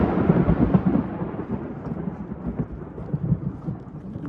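A low rolling rumble of thunder during a thunderstorm on the Appalachian Trail, loud and sustained at first and then slowly fading, with rain hissing steadily throughout.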